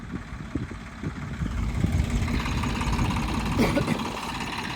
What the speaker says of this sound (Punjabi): ਉਹ ਆਉਂਦਾ ਚਿੱਟੀ ਛਤਰੀ ਵਾਲਾ ਟਰੈਕਟਰ